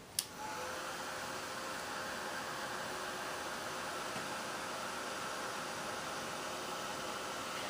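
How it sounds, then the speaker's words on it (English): Heat tool blowing on stamped pigment ink, a faint, steady airy whoosh that starts with a click and holds evenly to the end, with no talking. "now we're going to hit that with our heat tool again real quick"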